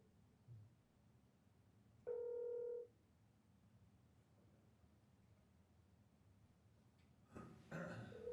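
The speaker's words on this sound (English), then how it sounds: "Answer your phone." A telephone ringing in a city economic development authority meeting room: one clear electronic tone burst of under a second, quiet background, then a louder noisy bustle near the end.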